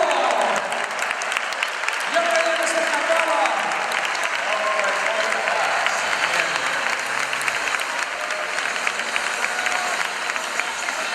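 Applause from a crowd at a police dog show in an arena, a dense continuous roar of clapping sustained for several seconds, with voices talking underneath.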